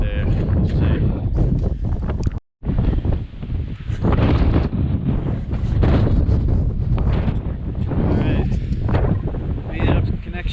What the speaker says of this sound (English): Unfortunately, there's a lot more wind than I thought.